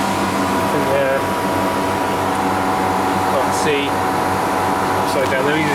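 Steady hum and whir of 2-horsepower air conditioning units running continuously, close and fairly loud, with faint voices and small clicks over it.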